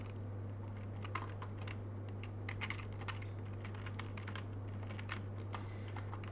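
Rapid typing on a non-mechanical computer keyboard during programming, soft, muted key taps in irregular bursts, close but quiet over a steady electrical hum, with no voice.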